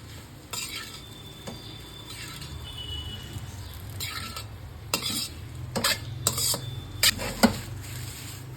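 Egg noodles stir-fried in a pan over a high flame with salt, chilli powder, coriander powder and garam masala: a soft steady sizzle under repeated sharp scraping and clanking of a spatula against the pan, close and alone.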